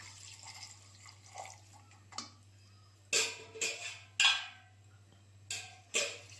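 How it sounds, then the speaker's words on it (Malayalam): A glass of water splashes into a pan of chickpea curry in several short, close bursts separated by quiet pauses. "ഇനി നമുക്കിതിലേക്ക് ഒരു ഗ്ലാസ് വെള്ളം ഒഴിച്ചു കൊടുക്കാം"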